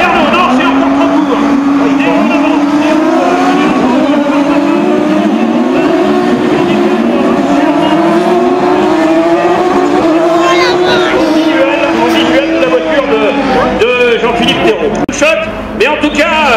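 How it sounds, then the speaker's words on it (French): Race cars in a Trophée Andros ice race at Super Besse, engines roaring loudly and continuously with pitch sweeps as the drivers brake late and accelerate, under excited French race commentary. "Attention à l'attaque d'Olivier Panis qui freine le plus tard possible"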